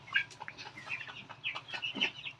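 Month-old Tiger chickens at a small backyard poultry farm in winter give many short, overlapping clucks and chirps in a steady, busy chatter at moderate distance, with no talking.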